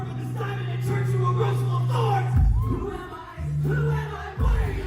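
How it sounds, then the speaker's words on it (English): Loud concert crowd singing along in unison to a well-known song, a dense wash of many voices with sustained sung notes rising and falling, continuous and close. "the crowd is so stupid loud at this point"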